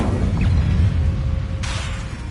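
In the video game Hogwarts Legacy, an Incendio fire spell goes off as a sudden burst over a constant low rumble, with a sharp whoosh partway through.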